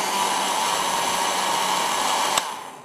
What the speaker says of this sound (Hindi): सब कुछ ब्लेंड